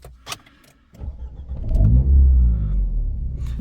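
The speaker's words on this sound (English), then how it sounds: "If I just start the engine," An Alpine A110 GT starting up: a brief starter whir, then the engine catches with a loud rising rumble and settles into a steady, close idle.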